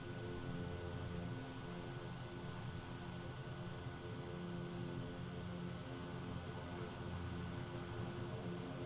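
A light aircraft on a bush-flying trip over Botswana in Microsoft Flight Simulator, engine droning steadily at a constant pitch, fairly quiet and unbroken, with no voices.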